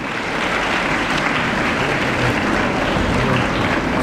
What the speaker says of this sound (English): Please kindly clap when they are getting there so that they will get motivated.